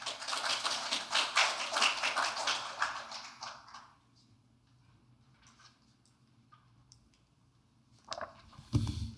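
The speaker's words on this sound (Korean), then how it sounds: "박수로 모시겠습니다." Clapping from a seated audience at an academic conference panel session in Korea, welcoming a visiting professor to present; a dense burst of hand claps for about four seconds, then quiet room tone with faint rustles and a few scattered knocks.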